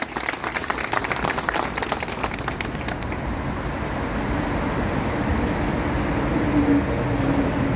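An audience at the opening ceremony of the Alevi Canlar Federation claps to welcome a speaker, a dense steady patter of hands that gives way to a softer background hum.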